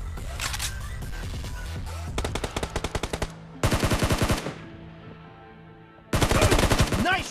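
Rapid bursts of automatic gunfire from the mobile battle royale game BGMI in a team deathmatch, loud and close, coming in several rattling volleys separated by brief pauses.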